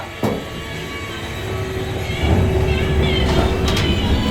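1960s American/CEDER Traffic-Master traction elevator in the Heyburn Building starting hard and riding up: a sharp thump, then a low mechanical hum and rumble that swells as the car climbs, with faint squeals.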